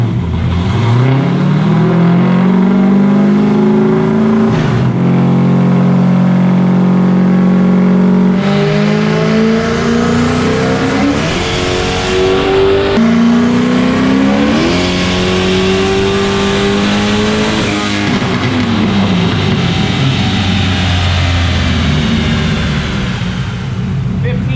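A turbocharged 363 stroker Fox Body Mustang with an 80mm turbo runs hard on a dyno, its engine roaring loud and close as it climbs through the revs in continuous surging pulls with shifting pitch and a high turbo whine.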